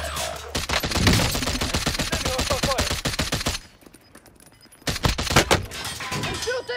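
Rapid automatic gunfire rattles in a battle royale video game, a long dense burst, a brief lull, then another close volley, loud and near.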